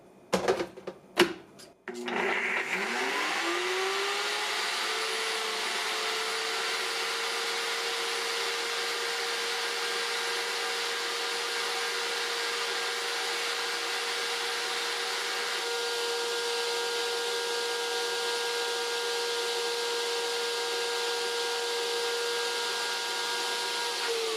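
A NutriBullet RX blender straining on thick almond butter: a few short bursts, then a steady, loud, high motor whine that holds without change.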